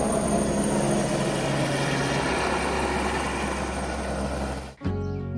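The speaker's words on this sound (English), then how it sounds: "Helicopter will come in with a long lead line and someone will hook it up and away they go." A helicopter on Réunion, coming in to lift rubbish away on a long line, whirs in a steady loud beat for several seconds before the noise drops away abruptly.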